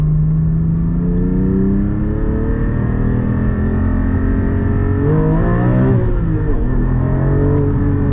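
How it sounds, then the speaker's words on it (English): A manual mid-engine Porsche 718 Cayman GT4 flat-six is pulled hard in first gear to the redline, its loud, steadily rising engine note climbing with no talking. "all the way up to red line, first gear pull"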